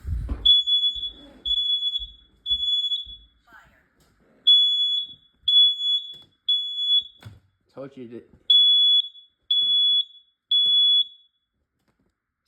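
A home smoke alarm under test shrieks in loud, piercing triple-beep bursts, repeated several times close by with short gaps between, while a person speaks briefly in the pauses.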